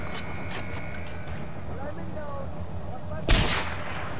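A single sharp shot from a Z93 rifle in Far Cry 4 cracks out near the end, standing out above a steady background of game ambience and low rumble.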